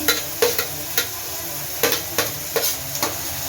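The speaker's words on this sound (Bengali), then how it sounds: "এবার আমি ক্যাপসিকাম দিয়ে দিলাম," Capsicum frying in refined oil with onion for a momo filling: a continuous close sizzle broken by frequent quick scraping stirs of a spatula in the pan, irregular but closely spaced.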